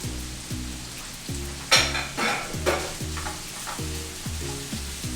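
Bacon sizzles steadily in a breakfast skillet while a utensil scrapes and stirs the pieces in repeated rhythmic strokes, with a few louder spatters along the way.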